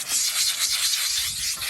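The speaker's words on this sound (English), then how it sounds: "So I try to scrub this the best I can, get all the salt out of it." A brush scrubs salt from deck glass rail brackets in a steady back-and-forth rasping rhythm, close and continuous for a couple of seconds.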